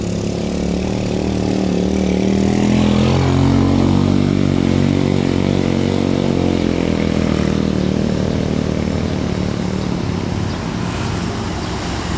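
A truck rumbles along a village road on Jalan Cisurupan in Garut, its engine loud and steady throughout with a swelling, droning tone as it passes close by.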